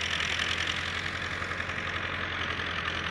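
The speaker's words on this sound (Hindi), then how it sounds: "ये देखें, हमारा रूसी ट्रैक्टर चल रहा है" A Russian tractor fitted with a blade runs steadily while clearing bushes, a continuous mid-pitched engine drone with a low rumbling hum, even and unbroken, with no talking.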